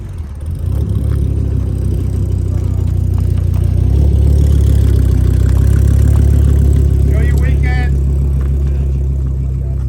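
A Dodge Viper engine idling, a loud, steady, deep rumble that swells slightly after the first second and holds at a low, throaty, truck-like pitch.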